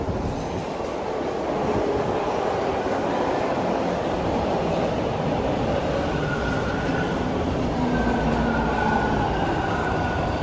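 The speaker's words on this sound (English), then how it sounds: "that's the eastbound train, as I was mentioning. And here comes the westbound train now, on the other side" Subway trains arriving at Toronto's TTC Dufferin Station, eastbound and westbound, give a steady, loud roar of wheels and motors on the rails, with brake squeal rising near the end.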